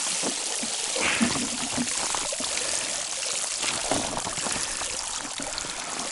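A small amount of water is poured outdoors, a soft steady trickling splash that runs continuously for several seconds with no talking.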